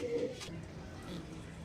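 Soft, low pigeon cooing repeats in short bursts against a quiet background, with no talking.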